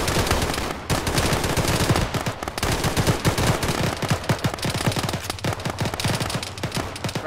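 Heavy automatic gunfire in an Arma game played with ShackTac, long rapid bursts of machine gun fire at close range with overlapping shots from several weapons, loud and sustained with brief pauses.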